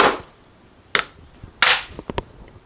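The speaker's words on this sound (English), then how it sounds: "I'm going to put the chisel in the knife line," A chisel set in a knife line is struck hard into wood to cut a tenon for a Morris chair slat, producing a few sharp, close woody whacks with short taps between them in a quiet workshop.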